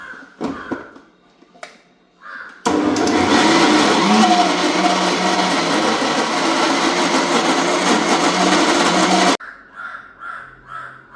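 A mixer grinder jar grinding batter for a snack runs loud and steady for about seven seconds, starting abruptly and cutting off sharply, with crows cawing outside before and after.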